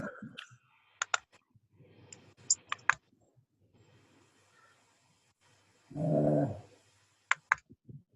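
Computer mouse left clicks, sharp dry taps in small clusters of two or three, close and crisp over a quiet room, with a brief low rumble in between.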